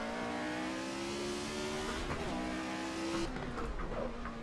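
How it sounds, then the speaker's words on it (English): Race cars in the Assetto Corsa racing game drive close by, engines droning steadily with rising and falling pitch as they shift, overlapping motors near and loud, with a brief tire squeal toward the end. "It's nice how you can hear the other cars as well in this, as they are close to you."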